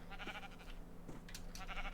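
Sheep bleat a few times in a Minecraft game, short nasal calls rising over a steady low background hum, moderately near and distinct.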